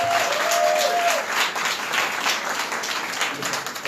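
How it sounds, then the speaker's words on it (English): Audience applause at an award ceremony, steady dense clapping throughout, loud and close with no talk over it. "Give her a round of applause."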